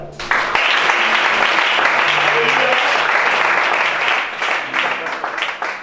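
Worshippers at a Gabonese deliverance service clap together in a loud, steady burst of applause filling the church hall, with faint voices mixed in before it tapers off unevenly at the end.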